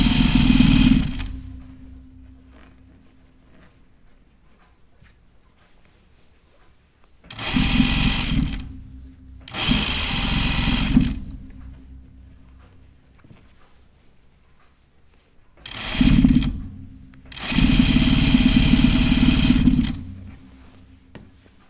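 Sewing machine roll hemming a skirt, running in four distinct bursts of steady motor whir separated by quiet pauses, close and fairly loud, with no talk.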